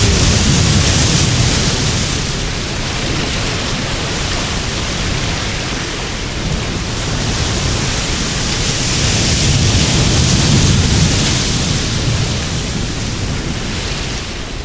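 Typhoon Kong Rey brings roaring wind and heavy rain in Taiwan, a loud, unbroken wash of broadband noise that surges and eases in slow gusts throughout.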